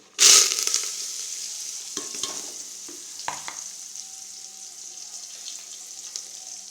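Onion and tomato hit a hot pan with a loud, sudden sizzle burst that settles into a steady frying hiss, broken by several stirring scrapes close by.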